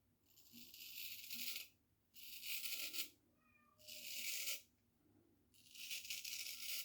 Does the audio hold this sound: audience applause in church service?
no